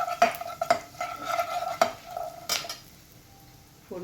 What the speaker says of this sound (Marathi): सगळं घालून छान फोडणी जरा परतून घ्यायची आहे